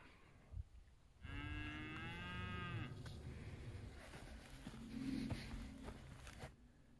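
Cattle moo on hot, dry open range along the Continental Divide Trail, one long drawn-out low call followed by a softer, shorter moo a few seconds later, heard outdoors with no talking.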